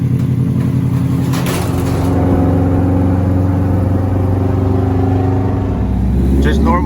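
A 2005 Subaru STI with a DIY intake idles while warming up, a steady, close, loud engine drone with a brief surge near the start.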